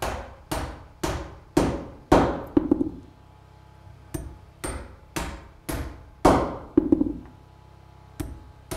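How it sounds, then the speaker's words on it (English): A hammer drives nails into a wall framing board centered over a floor joist, with about a dozen sharp, loud blows in uneven bursts and brief pauses between groups. "I get it centered over the floor joist and nail them home."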